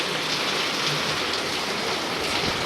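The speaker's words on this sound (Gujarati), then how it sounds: "આ વરસાદ ચાલુ છે" Heavy rain pours down continuously in a dense, steady hiss, loud and close with no pauses.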